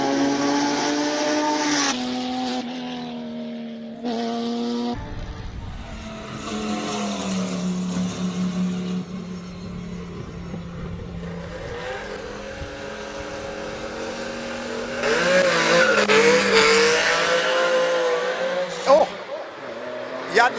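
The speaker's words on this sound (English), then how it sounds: "I think we need to talk about the E36 that's burning rubber like that" A BMW E36 burning rubber on a classic-car hill climb course in Cape Town, engine revving and climbing in pitch with tire squeal rising near the end, while a commentator talks over it at times.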